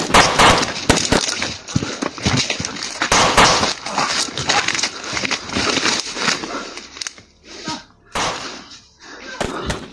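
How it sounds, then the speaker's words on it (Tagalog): Rapid gunfire fills the scene: dense, loud bursts of sharp cracks follow one another close by almost without pause, thinning into a few scattered shots near the end, with voices faintly underneath at times. "Ngayon pala may sumigaw at may putukan ng baril."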